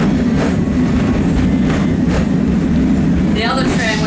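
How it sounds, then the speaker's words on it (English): A waterfront tram in New Zealand rumbles steadily along its rails, rocking, with a low, continuous roll and faint rhythmic clatter, ending in a brief high squeal of wheels. "You can see what I mean about this tram rocking and rolling a bit."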